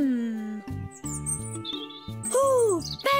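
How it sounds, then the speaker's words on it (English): Cartoon baby birds chirping from their nest, rendered as high, bright sliding tweets over a musical score. The chirps come in short bursts and sit close and clear. "Ooh, baby birds! I saw cute ones in their nest."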